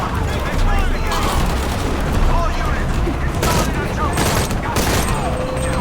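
A gun in Shadow of the Tomb Raider fires in short, heavy bursts, loud repeated booming shots mixed with game sound effects and a voice talking over the action.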